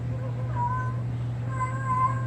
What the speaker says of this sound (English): And there's a kitty cat in heat.